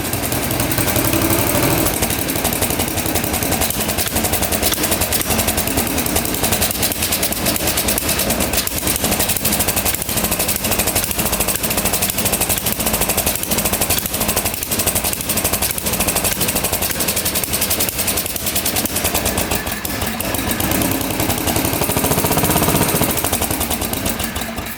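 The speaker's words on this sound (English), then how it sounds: "runs really good with the choke on" A 1960s hydraulic 6x6 amphibious tank engine, long sitting with a clogged carburetor, runs with the choke on, a loud steady idle with a rapid popping, sputtering rhythm close up the whole time.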